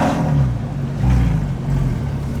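A Porsche 996 with a Sixty61 muffler bypass exhaust warms up close by, giving off a steady, deep rumble that swells slightly a few times, with no talking.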